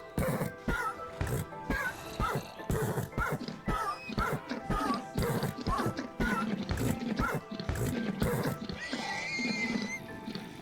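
A horse in a video game whinnies and snorts repeatedly in short bursts, close and loud, mixed with thumps and clattering hooves.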